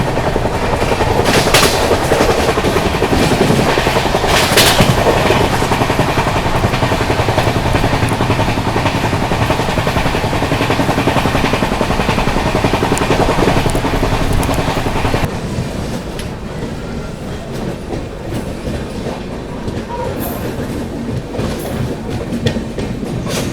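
Kashi Vishwanath Express train running loud and steady with a dense rushing roar and rail clatter, then easing to a quieter rumble partway through as it nears Rampur Junction.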